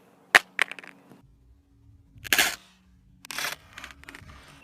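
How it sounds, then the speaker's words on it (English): A Samsung Galaxy S6 Edge smartphone drops face down onto a hard surface in a rear glass drop test, with a few sharp clattering impacts and bounces spread over several seconds. "I'm going to try and drop it face down, see if it would crack."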